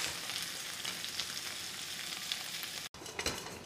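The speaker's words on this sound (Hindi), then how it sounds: "अब मुझे कंप्लीट 10 मिनट्स हो गए हैं इसको फ्राई करते हुए" Mutton frying in a pan for bhindi gosht, a soft, even sizzle with light stirring, briefly cut off near the end before resuming.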